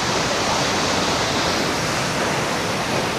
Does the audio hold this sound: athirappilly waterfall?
yes